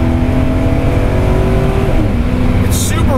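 A supercharged Porsche 928S automatic drives around the bumpy, partly damp Eagles Canyon Raceway, its engine droning loudly and steadily near the microphone, its pitch sliding as the gears change, with a brief high squeal near the end.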